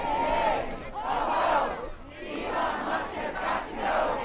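A large crowd at a protest rally against Elon Musk's moves to shut down USAID, chanting loudly in steady rising and falling waves that repeat without a break.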